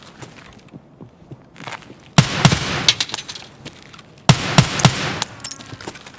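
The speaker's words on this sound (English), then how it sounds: "I probably can't even shoot through this glass." Two loud gunfire bursts in Escape From Tarkov hit glass, each a sharp crack followed by rapid clattering impacts and ringing debris, separated by a couple of seconds with quieter footsteps and movement noise between.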